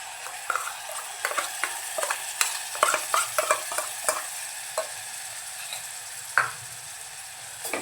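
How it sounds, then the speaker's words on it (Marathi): Onion-coconut masala paste stirred and sautéed in oil in a pan for a spicy Malvani crab curry, with steady close sizzling broken by repeated scraping and clinking strokes of the spoon against the pan, no voices. "आता आपण तयार करून घेतलेलं कांद्या खोबऱ्याचं वाटण घालून घेऊया"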